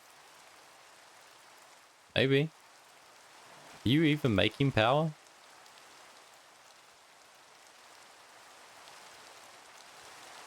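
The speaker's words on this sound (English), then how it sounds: "Is this okay in the rain?" Steady rain falls in Minecraft as a soft, even hiss throughout, with brief bursts of a man's speech over it.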